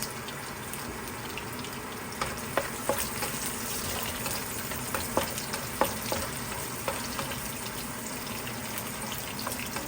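Garlic and onion sautéing in a pan for chicken pancit bihon, a steady close sizzle broken by frequent scraping stirs of the spatula, with no talking.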